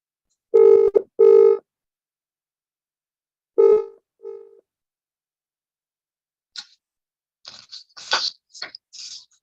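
A telephone being dialed to return a missed call, with a few short tone bursts up front and then a scatter of faint, brief clicks and tones further along, with no voices.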